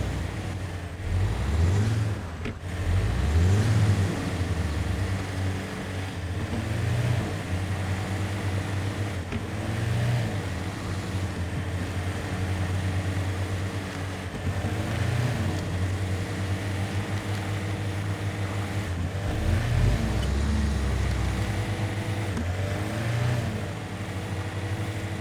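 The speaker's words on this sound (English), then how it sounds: "Listen to repetitive engine audio WAV files." A steady off-road truck engine from the mud-driving video game Expeditions: A MudRunner Game drones continuously and loudly, with low rumbling swells and periodic revving pulses across the whole stretch.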